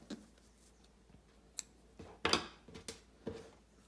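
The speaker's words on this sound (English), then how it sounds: "Get my scissors and snip off." Scissors snip through embroidery thread while making a spring butterfly wand, giving a few sharp, close clicks spaced irregularly over a quiet background.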